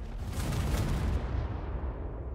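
In the strategy game Ruinarch, a meteor explodes and destroys houses in a long, loud roaring blast that rumbles heavily for about a second and then thins out as it fades away.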